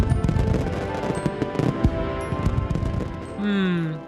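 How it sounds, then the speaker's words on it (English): Fireworks exploding in a Thomas & Friends episode, a dense rapid crackle of bursts for several seconds, followed by a rising whistle near the end. "We can watch the fireworks just as well from here."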